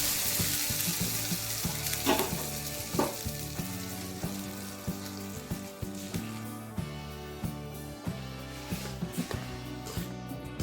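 A hot tempering of mustard seeds, cumin and curry leaves in oil is poured into chutney, producing a sharp sizzle that fades while soft tones and repeated clicks and taps continue underneath.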